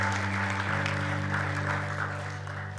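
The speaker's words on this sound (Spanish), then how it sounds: "Dale un aplauso de alabanza a Él, Él lo merece." A church congregation at a Spanish-language service claps in praise, soft and steady, over sustained keyboard tones for a few seconds.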